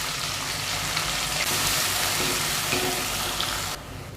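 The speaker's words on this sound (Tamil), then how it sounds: "இப்போ கட் பண்ணி வச்சுருந்த வெங்காயம் சேர்த்துடலாம்." Chopped onions hitting a hot pan of lightly browned garlic and frying with a loud, steady sizzle, with stirring scrapes throughout and the hiss easing slightly near the end.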